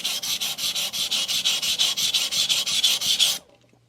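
A copper-backed blade is ground against a Sun Tiger GC220 grit stone in rapid, even back-and-forth strokes, a loud rhythmic rasping about six strokes per second that stops abruptly.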